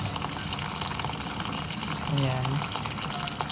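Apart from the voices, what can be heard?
water filling a container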